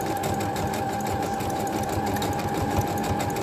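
A sewing machine runs a zigzag stitch through wig hair wefts, a steady fast mechanical whir with rapid needle clatter, continuous and close.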